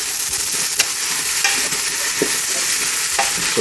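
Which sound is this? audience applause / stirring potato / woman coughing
stirring potato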